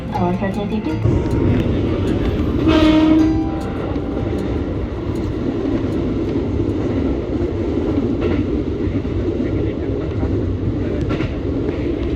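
A KRL Jogja-Solo commuter train rumbles steadily along the track, a continuous close interior ride noise with a brief louder swell early on, while people talk over it.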